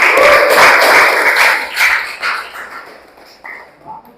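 A classroom group claps for group 5: a burst of close, lively clapping that thins into scattered claps and fades out within a few seconds.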